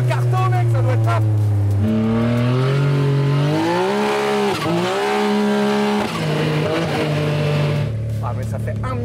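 A 400 hp engine fitted in a buggy roars loudly and close while driving, its pitch rising and falling through revs and gear changes for the whole stretch.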